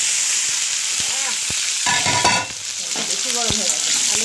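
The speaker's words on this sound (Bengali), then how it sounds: "আলুগুলো সঙ্গে মান কচুটাও দিয়ে একসঙ্গে ভেজে নেব, ভালো করে ভেজে নেব।" Potatoes and taro pieces fry in hot oil in a wok with cumin and bay leaf, a steady close sizzle broken by scraping stirs and a few clinks of the spatula against the metal.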